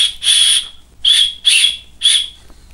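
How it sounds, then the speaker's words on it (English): A shrill metal whistle is blown four times in short, piercing bursts, each about half a second long, close and loud. "It's a metal whistle, too, so it's not some cheap plastic thing."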